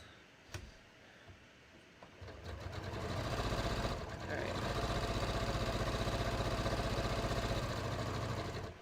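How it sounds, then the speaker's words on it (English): A sewing machine stitches denim jeans, starting with a few clicks and a short burst, then settling into a steady, loud motor whir with rapid needle chatter that runs unbroken for several seconds. "All right, so let's just sew this."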